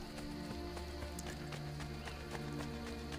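Horse in Assassin's Creed Brotherhood, near the Colosseum, clip-clopping with steady hoofbeats over a constant ambient bed, moving away.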